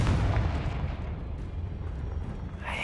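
A Confringo spell explosion from the Hogwarts Legacy video game, a deep rumbling blast with a sustained low roar that gradually fades, fairly quiet, with no talk over it.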